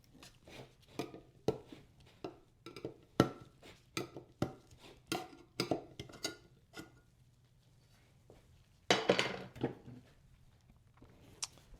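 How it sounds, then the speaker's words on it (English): A can of 2K epoxy primer catalyst is pried open: a run of sharp, close metallic taps and clicks at an uneven rhythm, then a short burst of scraping near the end, with no talking. "I'm gonna go ahead, crack open the catalyst"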